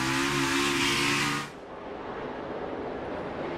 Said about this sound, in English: You can hear Chase Elliott modulating the throttle, on and off the throttle.